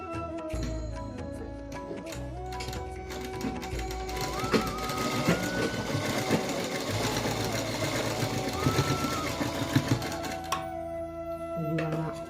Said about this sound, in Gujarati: આ રીતે સિલાઈ મારી દેવાની છે